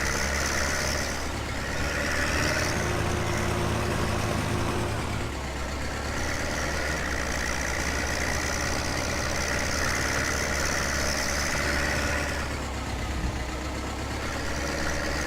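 Tractor engine in Farming Simulator 17, a steady mid-low drone that runs continuously and shifts slightly in pitch as it drives, with no voices.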